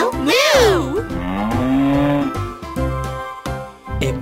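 A cartoonish cow gives a drawn-out, rising and falling moo, followed by shorter lows over a bouncy nursery-rhyme backing.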